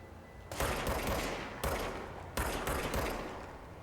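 Gunfire in the game Control, with dense, rapid bursts of shots at moderate volume, broken into three or four surges over a few seconds with continuous crackling between them.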